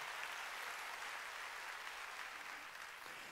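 A church congregation claps together during a Sunday worship service, a steady broadband wash of applause that holds at an even level for a few seconds with no talking over it.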